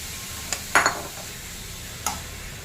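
Sliced radish being stirred in a pan for a curd curry, with a few sharp spoon or spatula clanks against the pan over a soft, steady cooking hiss.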